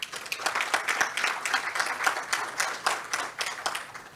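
Audience at a mining forum clapping in a steady, moderately close round of applause that continues through the whole stretch.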